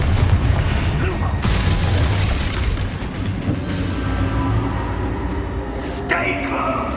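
Spells such as Confringo being cast in the Hogwarts Legacy video game: a dense, continuous wash of booming blasts and bursts over a rumbling low bed, with brief sharper flares near the end.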